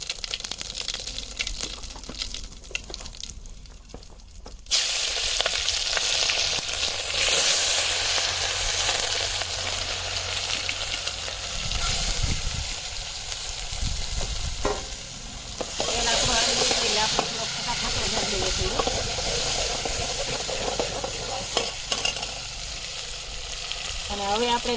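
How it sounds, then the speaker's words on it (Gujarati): Asafoetida hits hot oil while tempering a dry potato curry in a village kitchen, erupting into a loud, steady sizzle after a quiet start, with stirring scrapes and brief bursts of frying continuing close by. "તેલ હવે આપણું આવી ગયું ને આપણે દઈ દઈએ સૂકી ભાજીનો વઘાર હતો હિંગ નાખી દઈએ."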